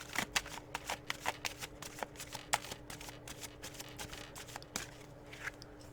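A deck of tarot cards is shuffled in a rapid run of crisp, close card slaps and riffles, quiet overall, continuing steadily without talk.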